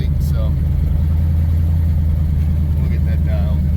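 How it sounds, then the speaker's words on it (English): A Ford LTD engine with bad exhaust leaks runs at a steady idle, a loud, constant low rumble that fills the clip, with faint higher ticking sounds on top and no voices. "It's got some bad exhaust leaks"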